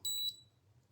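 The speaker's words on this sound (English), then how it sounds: "So you're only gonna hear 2 beeps for this because there's no conductive gel, right?" A facial spa device gives a single short, high electronic beep right at the start, followed by quiet low hum.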